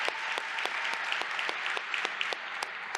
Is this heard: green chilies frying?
no